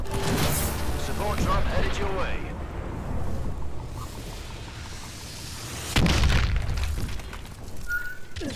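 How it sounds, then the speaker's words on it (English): Explosions from a friendly bombing run in the shooter game Call of Duty: Advanced Warfare, heavy booms near the start and a fresh loud blast partway through, with a player's voice and whistling game sounds mixed in. "Bombing run. Friendly."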